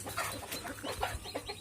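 Chickens clucking as they scramble over crushed eggshells, faint, scattered short clucks at close range.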